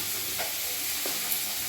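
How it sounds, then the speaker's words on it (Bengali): Snakehead (chang) fish frying in oil in a pan, a steady close sizzle that holds evenly throughout, with a couple of soft stirring sounds and no talk. "মাছগুলো উল্টিয়ে দিলাম, আর এক পিস মোটামুটি ভাজা হয়ে গেলে আমি তুলে নেব"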